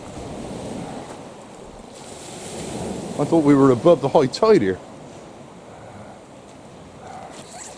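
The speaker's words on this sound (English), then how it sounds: "How high up does the flipping water come when it's stormy?" Sea waves wash and break on a shore in a steady, moderately loud rush mixed with wind buffeting the microphone, and a voice speaks briefly over the surf.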